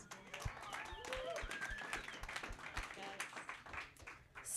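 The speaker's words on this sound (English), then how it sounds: "So give yourselves a round of applause." Sparse, light clapping from a small audience at a privacy tech meetup, faint and uneven, mixed with talking.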